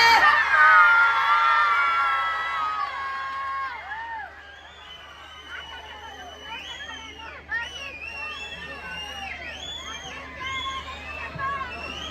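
A large crowd at the Peenya Nada Habba festival roars, whoops and cheers for actor Dhruva Sarja, loud and dense at first, then settling into scattered shouts and high children's cries over a steady babble of voices.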